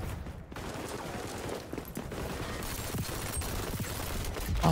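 Gunfire in the online shooter XDefiant, including shotgun blasts, crackles through a dense, busy firefight mix, the shots loud and near amid steady background game noise.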